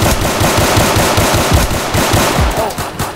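Sustained automatic gunfire from a video game, a fast rattling stream of loud, punchy shots firing close and continuously for several seconds, with no talking over it.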